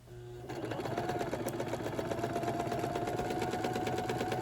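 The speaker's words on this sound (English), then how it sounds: "line those up, right sides together, and sew across" A sewing machine stitching quilt blocks together in a chain-piecing run, starting up after a brief pause and then running at a fast, even, continuous hum with rapid needle clatter, close and steady.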